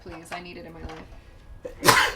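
A sneeze bursts out near the end, loud and close, after people talk casually over a tabletop wargame session.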